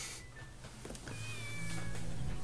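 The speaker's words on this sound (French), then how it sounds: "Oh, le petit chat, il a faim, quoi." Hungry kitten meowing in the Shenmue video game, several thin high mews in succession over a low background hum, moderately close and clear.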